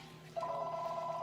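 A phone in a home kitchen starts a steady two-tone electronic ring, faint and brief over low room hum.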